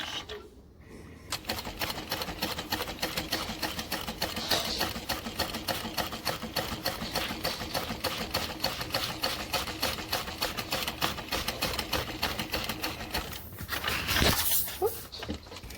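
A sewing machine runs steadily over elastic in a long continuous stitching pass with a rapid mechanical needle patter, pausing briefly near the start and again near the end, close and fairly loud with no talk.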